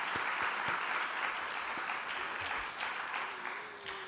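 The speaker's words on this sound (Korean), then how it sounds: "서로 격려의 박수 한번 보내드리겠습니다" A church congregation at a joint worship service applauds to encourage one another. The applause is a full, sustained wash of many hands that tapers slightly toward the end, with no talk over it.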